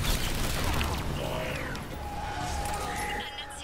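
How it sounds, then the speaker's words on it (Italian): A Reaper explosion ability goes off in Mass Effect 3 combat, a burst and crash at the start followed by whooshing sweeps and ringing sci-fi tones over game noise. "Sto facendo l'esplosione del mietitore"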